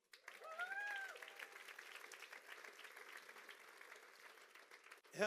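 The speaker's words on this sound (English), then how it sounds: "Give Joseph a big clap." Sustained applause from an audience, a steady wash of clapping lasting several seconds, with a brief voice near the start and a louder burst at the end.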